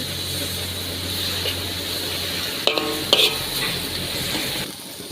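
Pork stir-frying in a hot pan hisses in a steady close sizzle, broken by a couple of sharp metallic clinks of a utensil against the pan near the end, then quieting.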